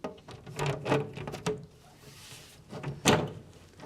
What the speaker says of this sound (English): And then we'll put our door on.